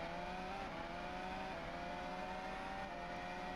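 On-board engine roar from Lando Norris's Formula 1 car at the start of the 2023 Chinese Grand Prix, a steady, dense high-revving whine that continues unbroken without any talk.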